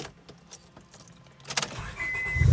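Keys jangle as a key turns in the ignition of a 2001–05 Honda Civic, and the engine cranks and catches in a rising low rumble during the last second.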